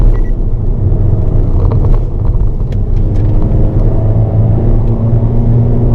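A car engine drones loud and steady at close range on a race circuit during an NCK track day, downshifting from fourth to third into turn one as the revs rise and fall, with no talk over it.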